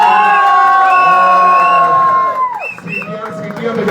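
A crowd cheers loudly and shouts with high, sliding whistle-like whoops that ring out over a busy roar, then break into scattered shrill calls near the end.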